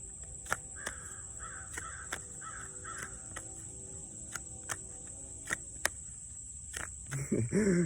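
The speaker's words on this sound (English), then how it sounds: "That crow in the back." A crow caws repeatedly outdoors at a distance, a steady series of hoarse calls over constant high insect or cricket drone, with sharp clicks scattered through and a brief voice at the end.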